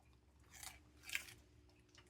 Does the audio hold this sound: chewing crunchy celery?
yes